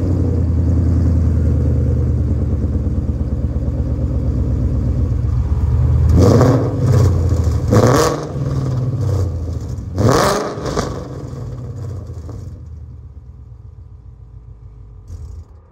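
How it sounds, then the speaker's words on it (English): A 2011 Ford Mustang GT with long-tube headers and race exhaust idles with a deep throaty rumble, then rises through two sharp revs before settling back to a lower idle and fading. "I'm gonna crank it up and give you a good little start and a good little rev up"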